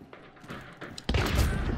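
Hand cannon fired through a wall in the video game Hunt: Showdown, a sudden heavy boom that cuts in midway after quieter game sounds and faint muffled noise.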